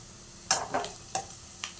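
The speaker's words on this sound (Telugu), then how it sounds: "ఆనియన్ ఈ మాత్రం వేగితే చాలు" Onions frying in a pan for fish curry give a few short, bright crackles and sizzling bursts, close and fairly quiet, with no talking.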